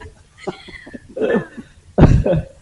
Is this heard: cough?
yes